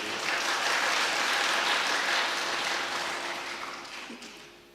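Audience applause at a devotional discourse by a saint, a dense sustained clapping from a large crowd that slowly fades toward the end, with no talking over it.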